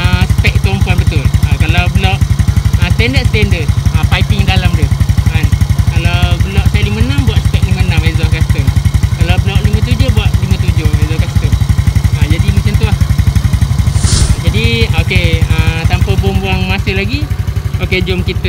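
A Modenas Kriss MR1 motorcycle engine with upgraded spec runs steadily throughout with a low, rumbling drone while a person talks over it.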